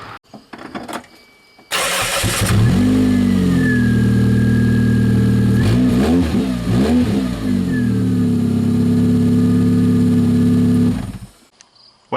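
A car engine filled with gear oil instead of motor oil cranks briefly and fires up on its first start. It settles into a loud, steady idle with a short rev midway before shutting off.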